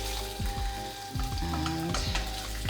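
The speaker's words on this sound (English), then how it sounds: "now we're going to turn over the bacon" Bacon frying in a pan for a British fry-up, a steady close sizzle with scraping turns and utensil knocks as the rashers are flipped.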